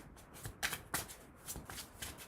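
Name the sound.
shuffling slippery tarot cards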